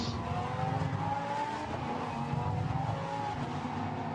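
Lamborghini Super Trofeo race cars lap the Barcelona circuit on a partly wet, drying track, their engines a steady, somewhat distant roar that swells and fades slightly throughout, with no voices.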